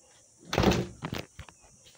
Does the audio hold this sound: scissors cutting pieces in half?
no